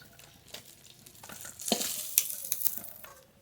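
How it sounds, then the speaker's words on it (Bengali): Fish fry in hot oil in a home kitchen, a quiet sizzle with soft crackles and a few sharp clinks of a utensil, rising a little toward the end. "এই মাছগুলো খুব ভালো করে ভেজে নিয়েছি"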